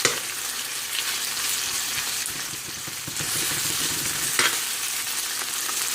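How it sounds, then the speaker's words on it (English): Onions and other ingredients for adobong talong sauté in a hot pan, giving a loud, continuous sizzle with scraping stirs throughout and no voices. "we're going to saute all of these ingredients here"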